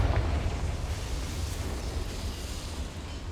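Rumbling fire-blast explosion from the Confringo spell in Hogwarts Legacy, set in a mine, a strong initial burst fading into a sustained low roar and crackle over a few seconds.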